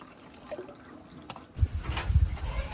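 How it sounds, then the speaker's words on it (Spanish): Water running steadily from an always-open pipe at a remote spot, a soft trickle at first, then a louder, fuller gush with low rumbling splashes close by. "Acá también el agua corre nada más."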